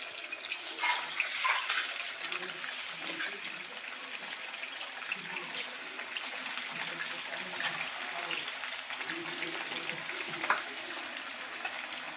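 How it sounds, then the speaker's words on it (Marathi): Marinated chicken fries in hot oil for Indo-Chinese chilli chicken, giving a steady, close sizzle and crackle that carries on without a break, with no voices. "तेल गरम झालेलं आहे, तर यामध्ये मी चिकन आता छान तळून घेणार आहे"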